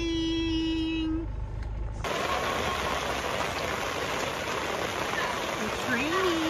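Rain falls in a steady, loud wash that starts abruptly and keeps going, with a voice heard faintly beneath it.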